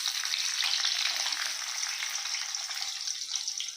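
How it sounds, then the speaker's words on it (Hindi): Chopped onion fries in a pan for restaurant-style butter chicken, a close, bright, steady sizzle with no talking over it. "तो अभी हम उसमें कांदा डाल रहे हैं"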